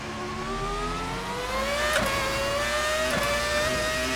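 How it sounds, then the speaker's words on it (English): An RSS Formula 2000 V10 Formula 1 car in the Assetto Corsa racing game, its high engine whine climbing steadily through the revs with two brief gear-shift breaks. The sound is loud and continuous, with no talking. "this sounds like an F1 car that I recognise very much"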